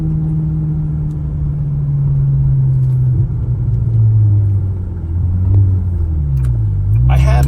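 A 2001 Ferrari 360 Spider in Tour de France blue drives on a road, its engine giving a steady low rumble that swells and eases slightly while someone talks over it throughout.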